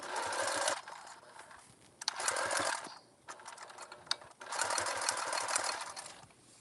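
A sewing machine stitches a water bottle bag from the underside, running in three bursts of rapid stitching separated by short pauses with faint mechanical clicks.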